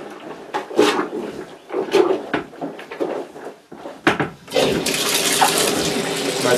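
Wet sloshing and plunging splashes as a plunger washes towels in water, repeated in irregular bursts, ending in a steady rush of running water.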